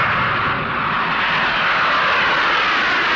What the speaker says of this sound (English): the Antonov 124